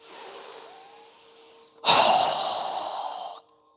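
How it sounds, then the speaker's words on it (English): A slow inhale is followed by a strong, forceful exhale during a yoga breathing exercise, a close, loud rush of breath that tapers off over about a second and a half. "So go ahead and inhale. Strong exhale."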